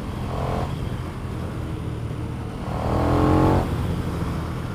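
A 2020 KTM 1290 Super Duke R motorcycle engine drones steadily up close, swelling into a louder rev around the middle before easing back to a constant throb.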